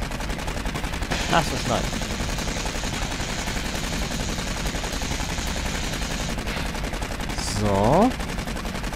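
Video-game gunfire in Aliens: Colonial Marines crackles as steady automatic bursts under a quiet mix, with people talking briefly over it.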